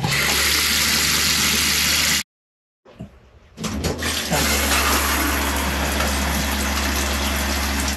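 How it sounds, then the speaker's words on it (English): Water runs steadily from RV faucets while a bleach mixture is flushed through the water system, a constant broad hiss that drops out briefly and then returns with some knocking before flowing on. "So let's turn on all of the faucets and get some of this bleach mixture up."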